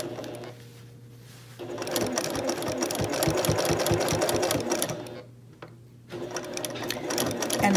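A sewing machine stitches quilt binding in bursts, a rapid mechanical needle chatter that starts, runs steadily for a few seconds, pauses, then resumes, close and clear with no talk.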